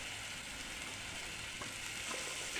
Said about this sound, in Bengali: একটু আমি সয়া সস দিয়ে দিচ্ছি এটার মধ্যে